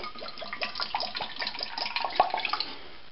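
Rice wine vinegar poured into a bowl holding about a pound of beef for Korean beef wraps, a close, bubbly liquid trickle lasting a few seconds with no talk.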